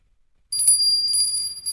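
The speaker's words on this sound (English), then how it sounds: "ring the bell" Small bell rung close by, a bright sustained high ring with rapid shimmering strokes starting abruptly after silence and holding to the end.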